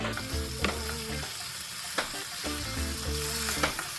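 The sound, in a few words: fish fillets sizzling in frying pan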